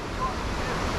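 Ohanapecosh Falls rushing through a gorge, a loud, dense, unbroken roar of falling water filling the air up close.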